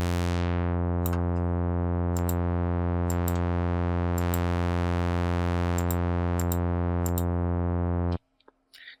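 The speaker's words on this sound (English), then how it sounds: "So we have different types of low-pass filters, depending on how steep they cut after the cutoff point we set." Sustained synth tone with a rich stack of harmonics runs through a low-pass filter of changing steepness, with faint periodic blips over it, then cuts off abruptly near the end, leaving brief quiet noise.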